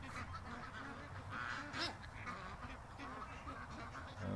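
Ducks quacking and geese honking near and far while being fed outdoors, a steady chorus of calls over background noise with a louder squawk in the middle.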